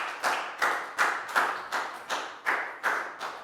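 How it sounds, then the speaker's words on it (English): Children in a Year 4 maths class clapping for a classmate, a rhythmic series of about nine distinct, evenly spaced claps close by, each sharp and decaying quickly, with no talk. "Big round of applause for Nadia,"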